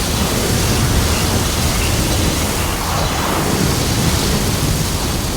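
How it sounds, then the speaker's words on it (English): A lightning flurry storm in the Gears of War 4 video game roars as a loud, dense wash of crackling noise. It holds steady through the whole stretch without pause, with no talk. "Lightning flurry!"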